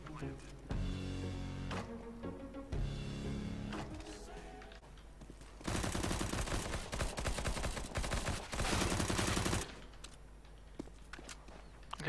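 Gunfire from Counter-Strike: Global Offensive (CS GO): a few sharp shots early, then a long, loud run of rapid automatic bursts, with footsteps and game noise between them and voices in the background.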